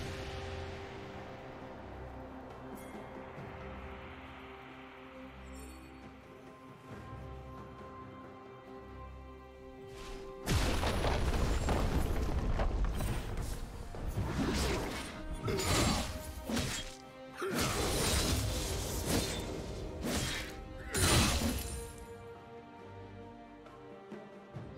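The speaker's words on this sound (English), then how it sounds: "Red team's turret has been destroyed" Turret destruction in a League of Legends match: heavy smashing crashes and thuds, with shattering, that burst in loudly about halfway through and keep hitting in dense clusters over quieter game ambience.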